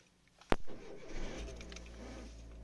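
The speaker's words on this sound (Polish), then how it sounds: "Na dotyk i dźwięk rozrusznika" A sharp click, then a starter motor cranks briefly before a car engine catches and settles into a low, steady idle nearby.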